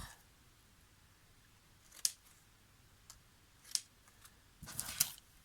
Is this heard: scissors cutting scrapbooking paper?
yes